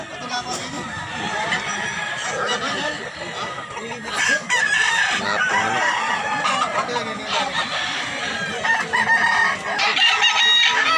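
Many chickens cluck and squawk close by at a market in Mantalungon, Barili, Cebu, while a rooster crows, with people talking underneath in a busy, noisy crowd.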